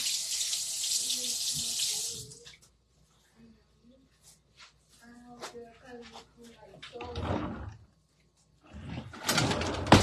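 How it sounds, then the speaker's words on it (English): Tap water runs into a kitchen sink for hand washing, a broad steady hiss at the start, then quiet with faint bird calls, someone speaking, and a second burst of running water near the end. "Wash my hands really quick."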